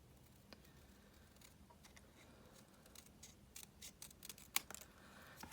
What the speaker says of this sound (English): then just trim straight across the bottom